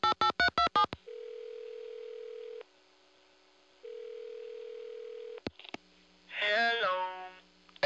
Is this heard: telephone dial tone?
yes